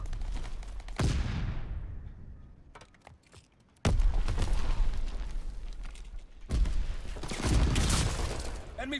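Bomb blasts and gunfire rumble through a WW2 PC shooter game: heavy booming impacts rolling into long decays, scattered crackling shots in between, dense and fairly loud, with faint game voice callouts underneath.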